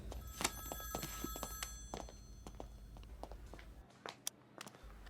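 A phone's ringtone trills briefly near the start, followed by scattered clicks, thuds and footsteps in a quiet room.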